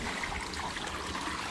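Steady broadband rush of water running through a roof leak, a continuous close trickle and splash with no talking, even in level throughout.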